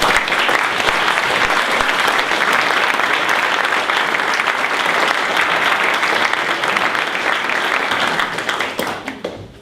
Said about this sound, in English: how about a round of applause to welcome David?